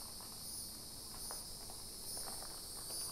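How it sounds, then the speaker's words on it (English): Steady high-pitched buzzing of cicadas drones continuously outdoors in St. Augustine, Florida, with a few faint rustling ticks underneath; no voices. "You can hear the cicadas."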